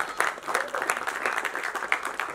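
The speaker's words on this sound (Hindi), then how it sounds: "जी, प्लीज एक तालियां इनके लिए होनी चाहिए." Applause from the audience at a film trailer launch event, steady clapping spread through the crowd with soft, scattered claps that stay fairly quiet and distant, with faint voices underneath.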